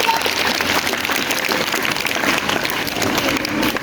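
Sustained applause from a school audience, dense and steady clapping at close range for the whole stretch without letting up.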